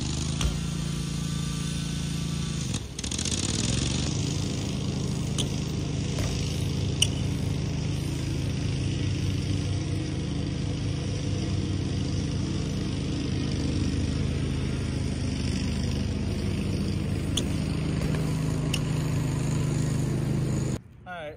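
Lawn mower running around an outdoor skatepark, a continuous buzzing engine drone at steady distance that dips briefly early on, then carries on unbroken for about twenty seconds.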